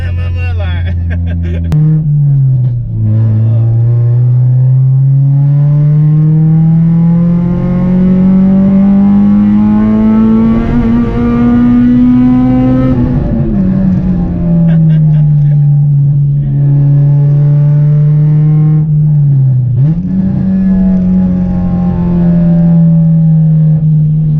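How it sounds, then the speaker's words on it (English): A stripped-out, straight-piped Honda Civic EP3 Type R engine revving hard into VTEC: a loud, continuous raw exhaust drone that climbs and falls in pitch through shifts, up close for the whole stretch. "I think all the video of us like driving is just gonna be hitting vtec"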